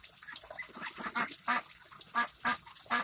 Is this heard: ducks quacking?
yes